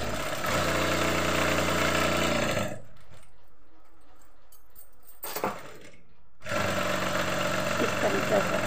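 A sewing machine runs fast and loud, stitching the sleeve seam of a kurti, pauses for a few seconds with light handling noises, then starts again at full speed.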